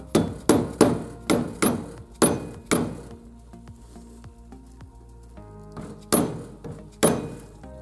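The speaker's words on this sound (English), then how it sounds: "And we'll hammer this rubber thing in." A rubber fork seal being hammered into the fork of a BMW R100 S motorcycle, a run of sharp, close metallic strikes in steady rhythm, then a pause with light clinking before two more firm blows.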